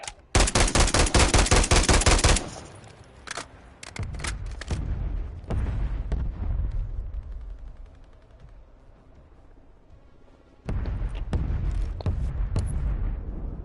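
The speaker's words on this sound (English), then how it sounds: "Mortar strike inbound now." A mortar strike and gunfire in a video game, with a loud opening burst of rapid automatic fire, then scattered shots and booming impacts that fade before another heavy barrage erupts near the end.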